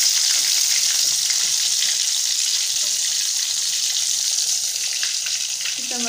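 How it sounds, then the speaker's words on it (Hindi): Fish pieces fry in hot oil at home, giving a steady, loud, close sizzle with a dense hiss that runs the whole time, with only faint small bubbling and crackling changes and no voice. "लास्ट पीस भी ऑलमोस्ट फ्राई हो चुका है"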